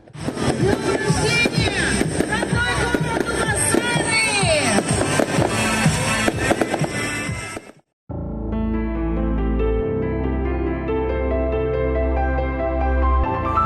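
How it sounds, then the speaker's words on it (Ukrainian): A festive fireworks salute closes evening celebrations at a village festival, with dense, loud crackling bursts and booms for several seconds before it cuts to music. "Гуляння тривали до пізнього вечора і завершилися святковим салютом."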